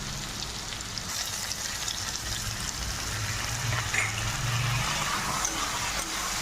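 Ground masala paste frying with onions in a pan for a potato and cauliflower curry, giving a continuous, moderately loud sizzle that builds slightly toward the end.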